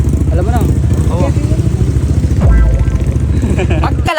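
Motorcycle engine running loud and close, a steady throbbing drone throughout with a brief surge in revs midway, while people talk over it.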